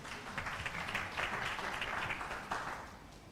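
An audience at the African Council for Distance Education 20th anniversary celebration applauds the presenters with steady, continuous clapping that sounds somewhat distant and moderately soft throughout.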